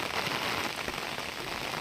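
Heavy rain pours in the foggy countryside near the hills and farm fields, a dense, even hiss of drops hitting surfaces, loud and close with no voices.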